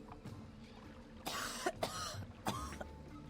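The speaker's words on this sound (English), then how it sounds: "Don't cough at me." A few rough coughs and throat-clearing sounds during a video game play session, with quiet background sound between them.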